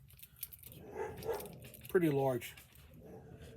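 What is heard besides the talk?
dog barking at people walking by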